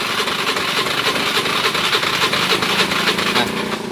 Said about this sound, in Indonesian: Jadi untuk menghidupkannya harus sambil digas.